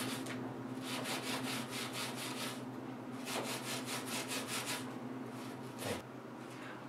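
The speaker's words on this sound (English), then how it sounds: "You can see how the brass brush moving over this surface makes things bright and shiny." A brass brush scrubs copper washers in fast rhythmic back-and-forth strokes, a close raspy scratching in two bursts separated by a short pause, with no talking.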